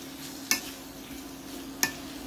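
Marinated veal pieces browning in a pan give a steady, low sizzle throughout, with two sharp utensil clicks or scrapes against the pan breaking in close by.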